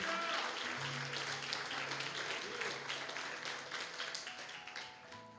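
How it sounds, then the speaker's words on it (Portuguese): A church congregation in a Portuguese-language service claps together, a sustained and fairly distant wash of applause that slowly fades, with faint tones lingering beneath. "Você pode aplaudir"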